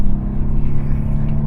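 Mercedes-Benz W221 S-Class with the M272 V6 engine accelerating, a steady low rumble and drone heard from inside the car, loud and continuous for a short stretch with no voices.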